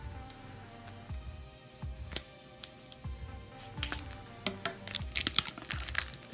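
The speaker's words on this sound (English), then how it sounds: "I'm gonna need the scissors for this one." Scissors snip and crinkle through the plastic packaging of a trading card lot, giving a string of sharp cuts, rustles and crackles, close and fairly quiet.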